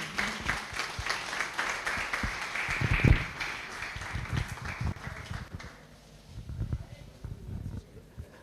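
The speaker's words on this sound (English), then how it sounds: "Can we give her a second round of applause?" An audience at a history conference claps after a speech, its applause thinning out partway through while voices talk over and after it.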